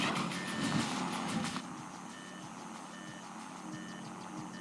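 Odd audio glitch in the Antarctica level of the 2004 Transformers video game: a harsh buzzy burst, then faint repeating electronic beeps over a low hum, with no voices.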